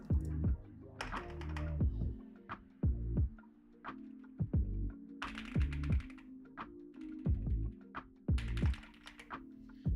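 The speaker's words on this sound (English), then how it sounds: "that's my new keyboard sound" Soft clacking keystrokes on a new computer keyboard come in quick irregular bursts, close by, with a faint hum underneath and no talking.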